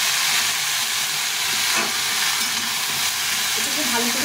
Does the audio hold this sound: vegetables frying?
yes